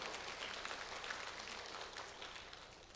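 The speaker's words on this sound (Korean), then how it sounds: "박수까지." A church congregation at a Friday prayer service applauds, a soft, steady wash of many hands clapping that stays faint and even throughout, with no speech over it.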